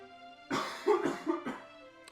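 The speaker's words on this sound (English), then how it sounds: "I really need to cough" Several quick coughs in a row, close to the microphone and moderately loud, over a quiet background with faint music.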